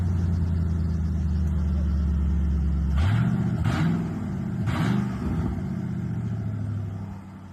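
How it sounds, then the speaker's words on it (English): Car with exhaust cutouts and a MagnaFlow exhaust, a loud deep idle rumble that breaks into two or three sharp revs, then settles back to a lower drone. "it really sounds different in the exhaust. It kind of sounds a lot more like a Mustang, especially paired with the MagnaFlow exhaust."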